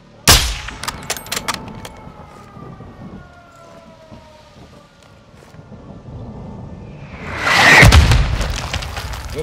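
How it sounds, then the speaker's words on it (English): Mortar explosions in Call of Duty Modern Warfare 2, a sharp loud boom at the start, a rising whine and distant rumble, then a second heavy blast near the end with debris crackle. "Launching mortars."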